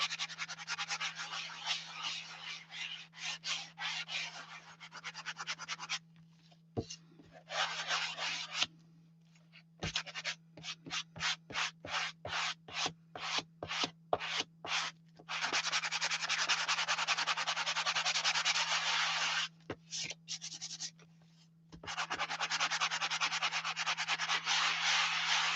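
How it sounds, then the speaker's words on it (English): Light sanding over raised spots on a painted craft wall hanging, a dry scratchy rubbing in bursts of long strokes and quick short passes, close and steady, with a constant low hum underneath. "I am going to lightly sand this where I see the raised up spots"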